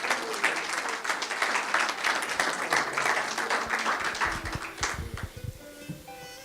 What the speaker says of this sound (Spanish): Dele un aplauso al Cristo de la gloria.